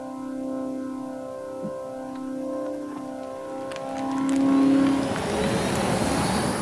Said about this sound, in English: This Silverado's pedestrian sound sounds pretty cool.